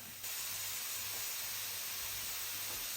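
Grated beetroot and carrot hitting softened onions in a hot pan, a steady broad sizzle that flares up at once and holds evenly, close and moderately loud with no talking.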